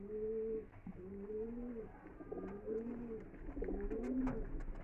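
A Madrasi pigeon, likely a male, coos close by in a series of soft, rolling low calls repeated several times over faint background noise.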